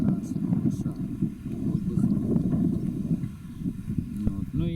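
Strong outdoor wind gusts buffet the microphone, a steady low rumbling roar around a vegetable garden with burdock plants, with brief faint sounds near the end.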